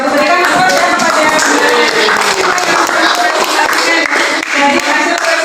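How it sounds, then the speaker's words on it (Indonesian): A class of seventh-grade pupils applauds after a presentation in an Islamic history lesson, a dense, loud, steady burst of many hands clapping that fills the whole stretch with no pause. "Berikan aplaus kepada"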